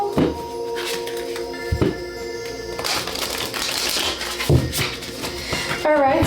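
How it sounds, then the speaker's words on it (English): Tarot cards being shuffled by hand in a steady riffling, papery flutter, with a few sharper slaps and taps of the deck, close and fairly loud, with no talking. "let's get one more shuffle"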